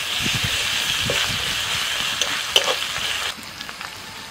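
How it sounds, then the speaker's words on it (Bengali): Fried onions with ginger-garlic paste sizzling in a pan, a loud continuous hiss with stirring scrapes and a sharp clatter, then the sizzle drops off abruptly. "পেঁয়াজটা ভাজা হয়ে গেছে, এবার এর মধ্যে আমি দিয়ে দিচ্ছি 1 চামচ আদা রসুন বাটা"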